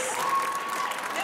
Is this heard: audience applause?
yes